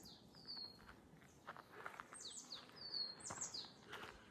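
Small birds chirp on a spring hiking trail on a clear April day, with thin high tweets and short trills repeating over a soft outdoor hiss. They sound a little distant and fairly faint.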